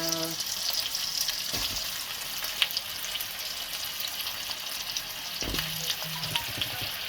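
Potatoes sizzle and fry in a pot for githeri, a steady close crackle running throughout, with a few low knocks of stirring or the pot being moved.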